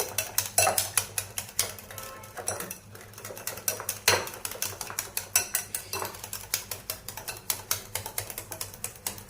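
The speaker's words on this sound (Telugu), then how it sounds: "దీన్ని మొత్తం మనం ఇలా బీట్ చేసుకోవాలి ఆ ఉప్పు పంచదార ఇవన్నీ పెరుగులో కలిసిపోయేలాగా" A spoon or whisk beating yogurt with salt, sugar and oil in a bowl, making a fast steady run of close clinking, scraping strokes with no pauses.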